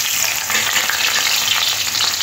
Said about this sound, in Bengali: বিরিয়ানির জন্য আলুটা ভেজে নেব